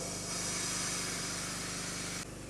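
Shop air is pumped into a Volvo's boost system for a pressure test. A steady, loud hiss of rushing air with a machine hum underneath drops off abruptly near the end, with no talking.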